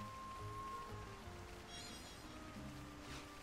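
Steady rain in the video game Xenoblade Chronicles X, a soft continuous hiss and patter outside a smoldering ether mine, fairly faint and constant, with low rumbling and occasional tonal game sounds underneath.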